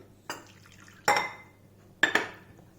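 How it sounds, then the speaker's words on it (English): Three short clinking strikes of a utensil against a bowl while suji pizza batter of semolina and curd is stirred with added water, each knock distinct with quiet pauses between. "Now I am adding water."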